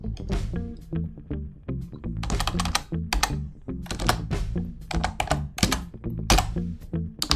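Fingers type Pascal code on a computer keyboard, producing close, loud clusters of clicky keystrokes in irregular bursts throughout.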